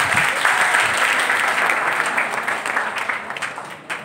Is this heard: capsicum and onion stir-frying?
no